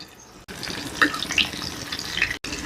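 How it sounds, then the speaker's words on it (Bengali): Chicken hitting hot oil in a pan for Arabian chicken kabsa, a steady close hiss of sizzling with crackles and pops, running alone without talk, briefly cut off twice. "আমার তেলটা গরম হয়ে গেছে, এখন আমি চিকেনটা দিলাইলাম।"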